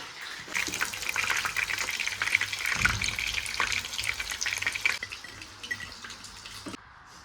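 Paneer cubes sizzling and frying in oil in a pan for a chilli paneer dish, a steady close crackle that fades near the end as the pieces are lifted out.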